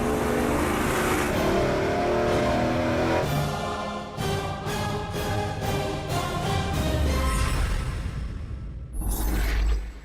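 A 555 cubic inch big block Chevy V8 roars loudly on an engine dyno, holding a sustained high-rpm pull, then stepping through rev changes before surging again near the end.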